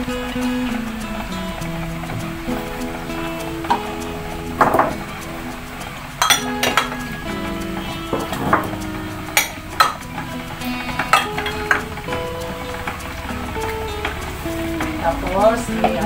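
Kutsinta batter with lye water being mixed in a bowl, giving a steady run of light clinks and scrapes from a utensil against the dish, close up, under ongoing conversation.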